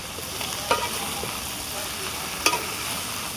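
Beef with spice paste and capsicum sizzles steadily in a pan over a clay stove, with two sharp scraping clacks as it is stirred.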